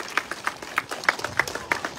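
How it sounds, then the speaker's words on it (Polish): Rhythmic clapping at an opening ceremony of a tournament in Zamość, a steady run of sharp claps roughly three per second, moderately close and fairly even throughout. "Bardzo wielkie brawa dla was."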